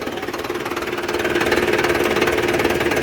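Four-cylinder turbocharged engine on a Thai farm racing vehicle with tractor-style tyres, a loud, close, rapid knocking drone that rises in intensity and holds steady throughout.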